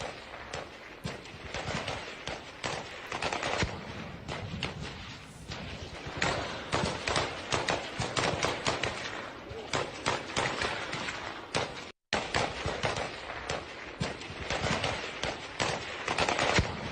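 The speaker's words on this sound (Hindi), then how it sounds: "गोलियों की ये गूंज आप सुनिए। ये टीटीपी की ओर से गोलियां बरसाई जा रही है।" Dense, sustained gunfire in the Balochistan conflict with rapid automatic bursts and overlapping shots, loud and continuous, briefly cutting out before resuming.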